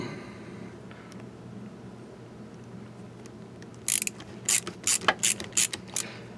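A nylon insert nut is backed off an aluminum bracket, giving a run of sharp, close ratcheting clicks in short bursts over the last few seconds after a quiet start.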